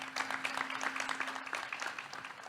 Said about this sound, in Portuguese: Uma salva de palmas para o deputado